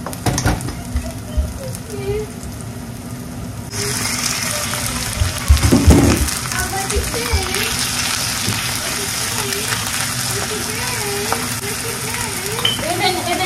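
Eggplant sautéing with garlic and onion in a pan, a steady sizzle that jumps louder partway through with scraping stirs, while a person talks over it.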